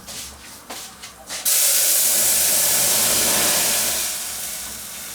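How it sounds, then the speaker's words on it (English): A loud, steady rushing hiss like rice boiling vigorously in water, after a few clanks, continuing for several seconds and easing slightly at the end. "Now I'm already boiling the rice."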